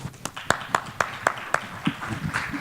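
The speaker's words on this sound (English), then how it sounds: "that deserves a round of applause" A small audience at a talk on a sports investment ecosystem claps in a sparse, rhythmic pattern, about a dozen distinct hand claps spaced evenly and fairly close, with a light murmur underneath.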